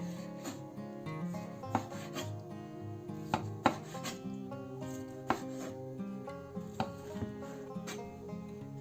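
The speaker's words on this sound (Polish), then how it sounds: "I kroimy na mniejsze kawałki." A knife chopping pineapple into small pieces on a board: a steady series of close, crisp cutting knocks at an irregular rhythm, fairly quiet and with no voices.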